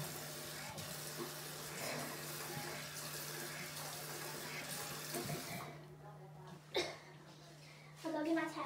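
Tap water runs steadily in a sink for several seconds while a face is rinsed, then stops; a couple of short splashes and faint voice sounds follow near the end.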